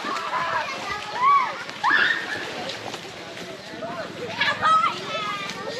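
Someone bathing at a village riverside splashes water in irregular bursts, fairly close, while people talk and children's voices carry over the scene.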